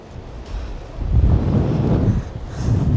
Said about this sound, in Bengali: এতটা জোরে জোরে হাওয়া হচ্ছে